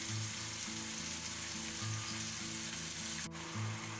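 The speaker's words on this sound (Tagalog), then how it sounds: "hanggang mag-golden brown yung ating pork or hanggang maluto siya dyan sa friend chef" Ground pork sizzles steadily in a hot pan, a loud continuous frying crackle with a brief scrape of stirring near the end.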